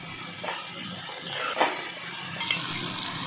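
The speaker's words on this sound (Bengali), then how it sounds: "এখন সবগুলো মশলা হালকা একটু জল দিয়ে ভালো করে কষিয়ে নেব।" Spices sauté with a little water in a pan, giving a steady close hiss and sizzle with a few scraping stirs.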